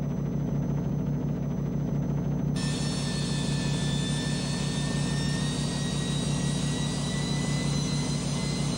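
Stage 2 jet engine from a battle truck mod in American Truck Simulator, a steady loud roar with layered high whines that jump in at about 2.5 seconds and hold to the end.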